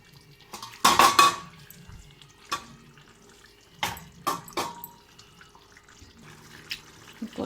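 Coriander goes into a pan of egg curry on the stove with clinks and scrapes of a utensil against the pan, a few separate knocks, close and sharp, with no speech.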